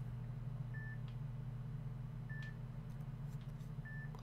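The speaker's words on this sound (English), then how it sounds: "If you're wondering what that beeping noise is" Three short, faint electronic beeps sound at even intervals over a steady low hum, with no voices.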